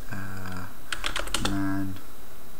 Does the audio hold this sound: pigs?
no